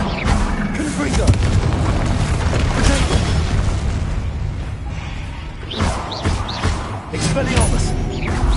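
Explosions from the Confringo blasting spell in a Harry Potter video game: deep, rolling booms with whooshing bursts, loud and close, under spoken voices.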